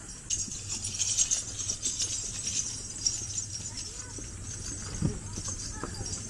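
Horse hooves clip-clop steadily along a road on the small island of Gili Air, Indonesia, a moderately close, rhythmic clatter over outdoor ambience with faint jingling.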